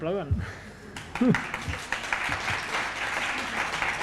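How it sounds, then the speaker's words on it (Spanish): An audience applauds at the Brain Film Fest, a film festival event; the clapping swells into a dense, steady ovation that fills the room while someone speaks over its start. "Sí, aplaudan."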